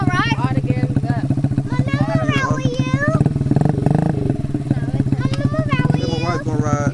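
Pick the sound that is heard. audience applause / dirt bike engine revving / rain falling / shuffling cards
dirt bike engine revving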